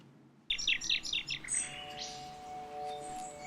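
A rapid run of bright, varied superb lyrebird whistles and trills, fairly close, easing into softer warbling with a faint sustained tone underneath.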